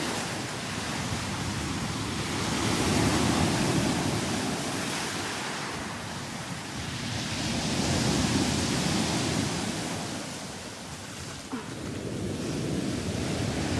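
Sea waves wash onto the shore in slow, rolling surges that swell and ease every few seconds, a steady broadband rush with light wind and no voices.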